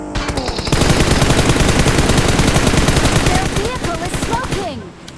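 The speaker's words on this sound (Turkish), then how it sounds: "Bunları vuralım." Gunfire in PUBG Mobile: a loud sustained burst of rapid automatic shots fills most of the span, rattling evenly before tailing off, while several players talk over the shooting.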